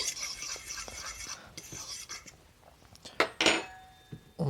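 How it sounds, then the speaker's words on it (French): Dry bread ingredients, flour, mixed in a bowl, with soft scraping and a few clinks of utensil against the bowl, quiet and close, ending in louder knocks. "Avant, on va mélanger un peu nos ingrédients secs."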